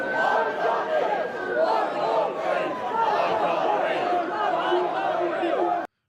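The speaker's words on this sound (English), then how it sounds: "there's a lot of people There's outside an this awful lot outhouse. of people. And they're cheering something about Henry." A large crowd of people outside cheers and chants, a dense, continuous wall of many voices with rising shouts, steady and fairly close throughout before cutting off abruptly at the end.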